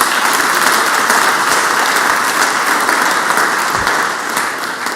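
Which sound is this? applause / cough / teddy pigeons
applause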